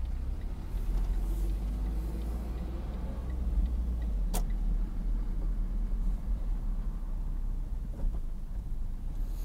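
A car drives and turns through a blighted Detroit neighborhood, heard from inside as a steady low engine and road rumble with wind noise and a single sharp click midway.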